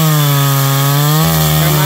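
A chainsaw of about 4.5 horsepower cuts through a large golden wattle tree trunk, the engine roaring loud and steady close by, its pitch shifting slightly as the load changes partway through.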